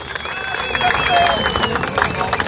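A crowd at a public gathering in Dehradun, Uttarakhand, applauding for someone speaker, a sustained wash of clapping and cheering mixed with babble and voices talking over it.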